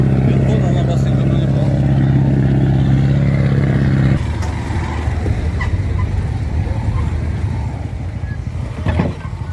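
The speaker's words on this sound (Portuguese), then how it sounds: "caminhão de bloco" A truck loaded with concrete blocks drives past, its loud, close engine rumble steady at first and then dropping off to a rougher, lower drone as it moves away, with voices talking over it.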